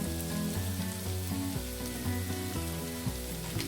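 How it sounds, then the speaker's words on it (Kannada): Tomato with chilli, coriander and turmeric powders frying in a pan for egg bhurji, a soft steady sizzle heard close and alone, with a faint tonal hum running underneath. "ಇಷ್ಟನ್ನು ಒಂದು ಸ್ವಲ್ಪ 1 ಮಿನಿಟ್ ಫ್ರೈ ಮಾಡ್ಕೊಳ್ಳಿ"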